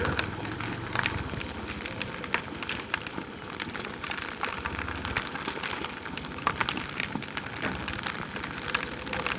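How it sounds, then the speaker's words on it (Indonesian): Heavy rain pours steadily during a storm at Kali Gua near Puncak Sakub, Brebes, a dense continuous hiss with scattered louder drop impacts and occasional low rumbling bursts, no one speaking. "3:30 sore di Kali Gua terjebak hujan badai"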